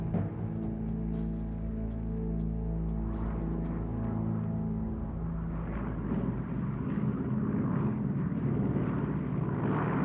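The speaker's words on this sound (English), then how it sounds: "Next came a Stuka attack on Portland. 30 dive bombers, escorted by 109s and 110s." Droning WWII-era aircraft engines from a Battle of Britain flight game, as a wave of Stuka dive bombers with Bf 109 and Bf 110 escorts attacks Portland, a loud steady multi-engine hum that thickens into rumbling combat noise.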